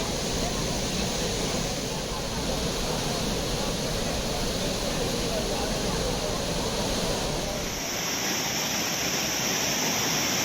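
The flooding main waterfall at Courtallam in Tenkasi roars as a dense, continuous rush of water, loud and unbroken throughout with no voices.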